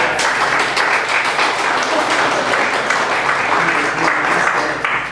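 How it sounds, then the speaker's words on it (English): A crowd applauds steadily, dense clapping from many hands sustained for several seconds, fairly loud and close. "I think we owe a round of applause to Eric"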